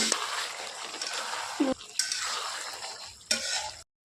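Chicken cooks in a pot with a continuous close sizzle and hiss, interrupted by a few clinks and scrapes of a utensil on metal, then a short silence near the end.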